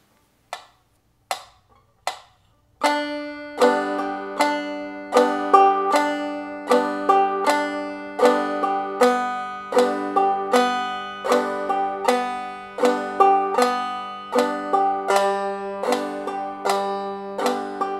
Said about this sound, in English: the hammer followed by a strum thumb